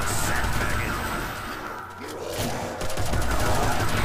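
Rapid, dense gunfire from the flagpole gun in the zombie video game Last Stand, a steady loud stream of shots that briefly dips in the middle and then resumes; no one speaks.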